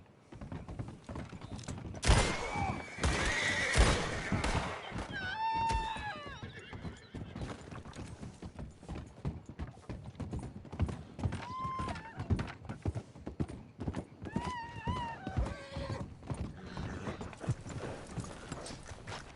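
Horse hooves clip-clop steadily while a horse neighs loudly several times, with whinnies rising and falling over a busy, clattering background in the video game Red Dead Redemption 2.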